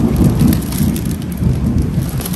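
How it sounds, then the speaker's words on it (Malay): Heavy rain pours outside, a dense loud steady hiss of drops on surfaces with no break and no voices. "walaupun kat luar hujan"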